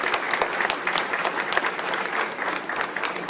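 A crowd at an embassy national day celebration applauds to salute Côte d'Ivoire, dense continuous clapping from many hands, close and fairly loud, holding steady throughout.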